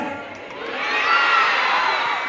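A large crowd at a live concert cheers and shouts together on cue, the roar swelling and holding loud for a couple of seconds.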